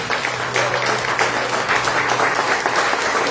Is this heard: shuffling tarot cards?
no